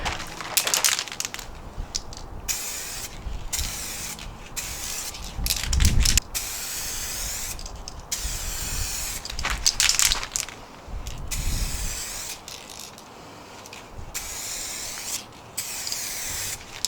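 Short and longer bursts of 2K clear coat hiss from a spray can onto a Lexus IS300 headlight outdoors, repeating with brief pauses between passes, close and fairly loud.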